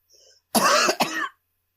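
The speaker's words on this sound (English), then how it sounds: "I hear a lot of smoking coughs from all of you." Two harsh, raspy smoker's coughs in quick succession, close and loud, preceded by a faint murmur of background noise.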